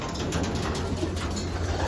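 Domestic pigeons coo steadily in a loft in hot summer weather, a soft low murmur running continuously with no talking over it.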